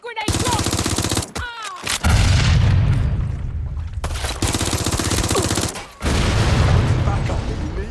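Frag grenade blast and heavy gunfire in the game Watch Dogs Legion, with dense, loud continuous shooting and booming bursts broken by short gaps, alongside voices shouting in the game.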